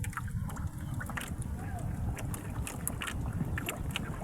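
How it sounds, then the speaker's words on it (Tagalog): Steady wind rushes and buffets the microphone in a constant low rumble near a mountain as rain approaches, with faint scattered sounds in the background. "nagsimulan naman ang hangin"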